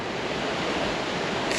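Steady rushing surf of rough waves breaking along a rocky lake shore, continuous and fairly loud, with a wind-like hiss throughout.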